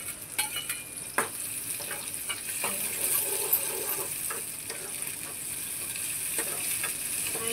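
Tomatoes frying in hot oil in a pan for a home-style brinjal and potato dish, a continuous bright sizzle with scattered crackles and occasional stirring clicks, close and steady.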